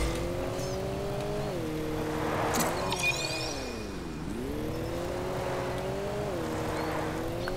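A car drifts and accelerates in the arcade game Rocket League, its engine whine sliding up and down in pitch as it swerves, with a brief sharp effect sweep midway, steady and close throughout.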